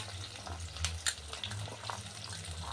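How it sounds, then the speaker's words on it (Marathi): Leftover chapati kutke ingredients, including peas, peanuts, potatoes, garlic and brinjal, are added to hot oil in a pan, giving a faint, steady sizzle with a few soft stirring clatters. "मी सगळं आपलं कुटक्याला लागणारं सामान टाकणार आहे तेलामध्ये"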